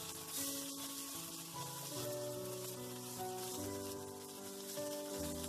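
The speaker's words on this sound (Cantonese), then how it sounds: "煎完一邊反轉，煎埋另外嗰邊1分鐘。" Marinated pork liver pan-fries on its second side with a soft, steady sizzle and crackle like light rain, fairly faint and uninterrupted.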